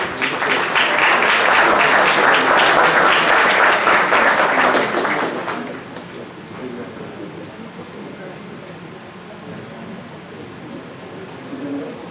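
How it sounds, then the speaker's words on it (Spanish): Audience applause for a doctor at a Spanish-language talk on healthy and active ageing, loud sustained clapping for about five seconds that then dies away into quiet room murmur with faint voices. "Por favor, un aplauso para la doctora"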